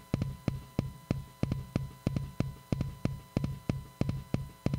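A kick drum being mixed with compression hits in a steady, even pattern, about two or three punchy thumps per second, each with a short boomy decay, heard clearly on its own.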